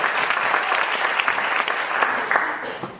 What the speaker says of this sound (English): One more round of applause for Daniela.